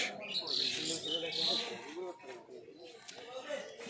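A red mukki pigeon cooing at close range, soft repeated throaty coos with light chirps, heard under a person talking nearby.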